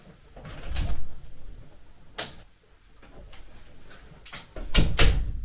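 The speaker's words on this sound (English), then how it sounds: "I always have to shut that door behind me" Office door shut with a couple of firm thuds and clicks, near and fairly loud, separated by quieter shuffling in a small studio room.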